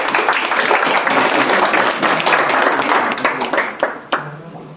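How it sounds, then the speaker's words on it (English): Audience at a book launch event applauds a speaker, a steady wash of clapping that thins into scattered claps and fades out near the end. "Another round of applause for the speaker."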